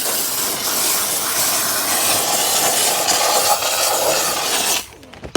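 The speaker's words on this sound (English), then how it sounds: "so here's one way that I tend to clean interiors is I'll spray my cleaner and then I'll steam it." A Platinum series steam cleaner steams a car interior after cleaner is sprayed on, giving a steady, loud broadband hiss that runs evenly for several seconds, then cuts off abruptly near the end.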